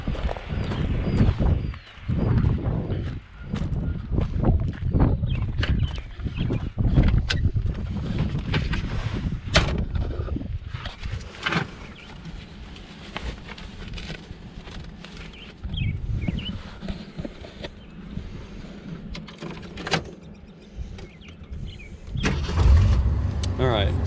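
A car engine starting after a jump start and settling into a steady idle, heard close amid handling noise and outdoor rumble, with a person talking through parts of it.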